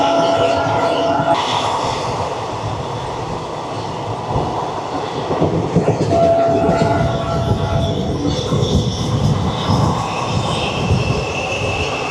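A Katra to Srinagar train rumbles steadily across the Anji Khad bridge, a loud continuous rolling roar with faint tonal squeals, sustained throughout without pause.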